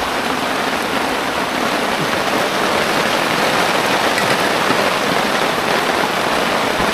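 Steady rain pours down around a tree house, a dense, even hiss that holds at the same loudness throughout with no voices over it.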